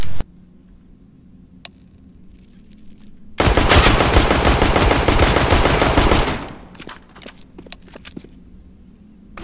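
Sustained burst of rapid automatic gunfire in a video game, loud and dense for about three seconds, framed by quieter scattered clicks and ticks before and after.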